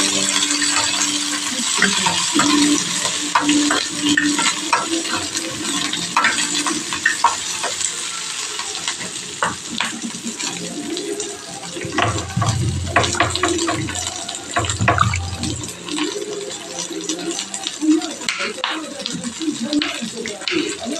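Ginger, garlic, curry leaves and onion frying in oil in a pan, a loud, continuous close-up sizzle with occasional clinks and stirring scrapes.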